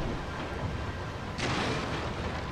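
Artillery firing high-explosive shells in Total War: Shogun 2 Fall of the Samurai, a rumbling low bombardment with a sharp blast erupting midway, fairly faint and distant-sounding.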